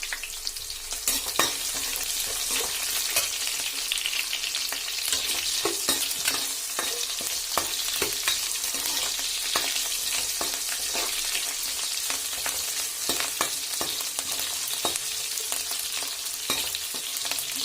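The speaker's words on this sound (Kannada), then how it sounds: "ಇವಾಗ ಇದನ್ನು ಸ್ವಲ್ಪ ಎಣ್ಣೆಯಲ್ಲಿ ಫ್ರೈ ಮಾಡಿ" Green chillies, onion and garlic frying in hot oil give a steady, loud sizzle throughout, broken by frequent crackles and pops and occasional stirring scrapes.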